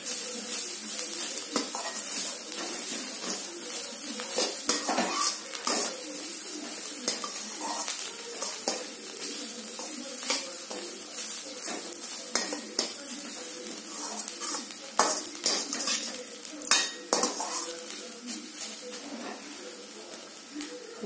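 Grated carrots for carrot halwa sautéed in a pan over low heat give a continuous soft sizzle, broken by frequent close scraping stir strokes, with faint bird calls in the background.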